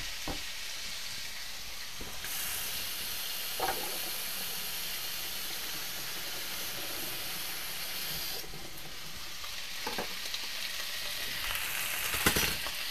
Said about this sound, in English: We're just going to go ahead and sear this a bit.